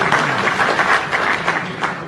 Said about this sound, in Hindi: दलों ने तालियां देनी शुरू कर दी